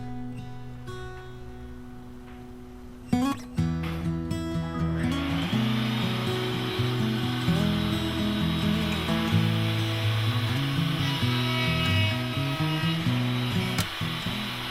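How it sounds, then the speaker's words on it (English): A saw cuts two pieces of square scrap stock clamped to the right-angle fixture of an Incra LS positioner, starting with a sharp clack and then whining steadily and loudly through the cut with no talk. "Clamp 2 pieces of square cut scrap stock to the right angle fixture and make the first cut."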